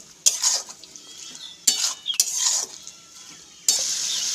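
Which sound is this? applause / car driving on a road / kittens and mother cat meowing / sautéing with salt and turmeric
sautéing with salt and turmeric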